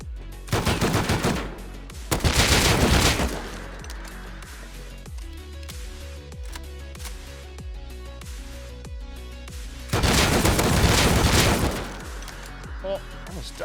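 Two AK rifles fire in a video game in two loud bursts of rapid automatic fire, one near the start and one near the end, with a quieter stretch of clattering and lower gunfire between them.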